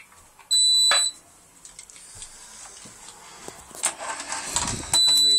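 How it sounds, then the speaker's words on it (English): During a fire alarm test, short electronic alarm beeps sound loudly in brief bursts at the start and end, separated by quieter rustling and a faint engine-like rumble. "Fire alarms have been tested."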